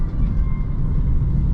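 A BMW 328i E46 engine hums steadily from the cabin while driving on smooth winter roads, a continuous low rumble with no pauses and no talking over it.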